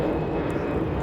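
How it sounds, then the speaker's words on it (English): A fixed-wing airplane passes close over the monuments of Washington DC, a steady low broadband engine roar holding at an even, fairly loud level throughout with no voices. "I'm surprised the planes fly so close to such important monuments here in DC."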